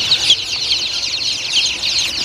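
Chickens cluck continuously in a close, dense flock, a busy chatter of many birds with no talking.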